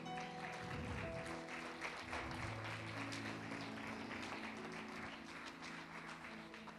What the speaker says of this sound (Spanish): Denle un aplauso al Señor entonces.